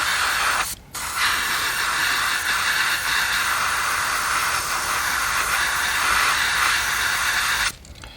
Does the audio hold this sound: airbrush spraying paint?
yes